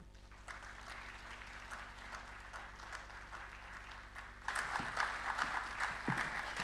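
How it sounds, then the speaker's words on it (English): Concert audience claps for performers at a classical music event, a fairly quiet, distant patter that swells noticeably louder partway through and keeps going. "So let's welcome with a big round of applause."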